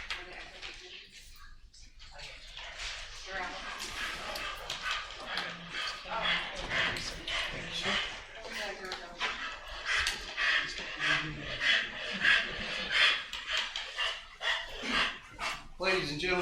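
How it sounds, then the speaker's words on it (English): A police dog barks, yips and whimpers over a crowded, murmuring room at a council meeting, its excited noises coming in repeated bursts amid continuous chatter from the people around it. "to retire one of our police dogs who's been with our department for quite a while"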